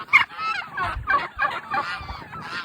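Several turkeys gobble and honk in quick, overlapping bursts on a turkey farm, loud and close, with no talking.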